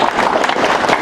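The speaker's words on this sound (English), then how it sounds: "give her a round of applause" A brief, dense burst of applause from a graduation ceremony audience, loud and steady throughout with no voices over it.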